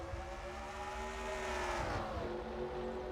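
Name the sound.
race cars at Charlotte in a racing video game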